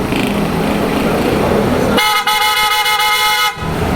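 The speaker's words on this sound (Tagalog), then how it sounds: "Meron tayong Auto Style Horn, yung na-install natin ngayon." Two pairs of PIAA OTO style horns fitted to a Ford Ranger Raptor sound one loud, sustained, brassy blast that cuts in halfway through and holds for about a second and a half over a background of engine rumble.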